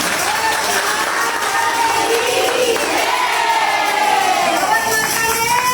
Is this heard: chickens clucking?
no